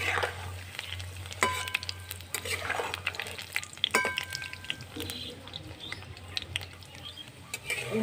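Taal bora, palm fruit fritters, deep-frying in oil: a steady bubbling sizzle runs throughout, punctuated by clanks of a spatula against the pan as the fritters are turned, with a faint low hum beneath.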